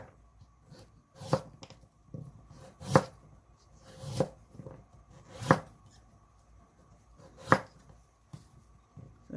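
A knife slicing through carrot on a cutting board for braised butterfish, five distinct sharp chops spaced about a second or more apart, close and clear over a quiet background.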